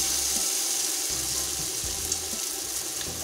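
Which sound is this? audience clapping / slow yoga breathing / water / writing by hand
water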